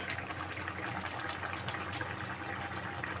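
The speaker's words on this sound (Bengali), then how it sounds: "আমি একটু জল দিই।" Water pours steadily into a cooking pan of simmering ridge gourd and pointed gourd curry, a continuous close gushing splash lasting a few seconds with no talk over it.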